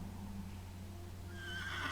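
A horse neighs in the video game The Excavation of Hob's Barrow, a short whinny rising at the end over a low steady ambient hum, fairly quiet.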